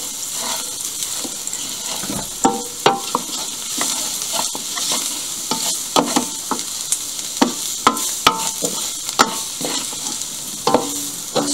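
Chicken breast and spices frying in a pan, stirred continuously: a steady sizzle with repeated scraping and clinking of the utensil against the pan, close and fairly loud.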